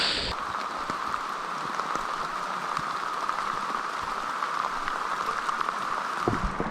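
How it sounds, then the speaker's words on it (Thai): Heavy rain falling during a rafting trip on a river in a small mountain village near Mae Taeng, Chiang Mai, heard as a steady, dense hiss of drops on surfaces, close and continuous without speech. "ตอนนี้ฝนตกหนักกว่าเดิมแล้วนะฮะ"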